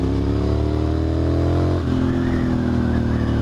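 A 2001 Ducati Monster M600 motorcycle idles loudly and steadily up close, its engine giving a continuous throbbing drone with a slight shift in pitch midway and no voices over it.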